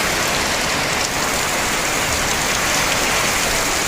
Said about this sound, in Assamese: এতিয়া একদম তামাম বৰষুণ ঢালি দিছে